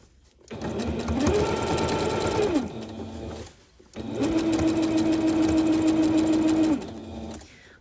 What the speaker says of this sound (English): we're going to stitch all the way as far into the corner of the bag as we can get with a straight stitch